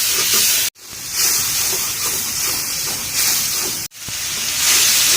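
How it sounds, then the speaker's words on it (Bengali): Ground spices mixed with water hit a hot pan with a loud, steady hissing sizzle. The sound is cut by two sharp breaks and then resumes at full strength. "ভালোভাবে একটু কষিয়ে নেব মশলা যত ভালো কষবে তরকারি টেস্ট ততই ভালো আছে"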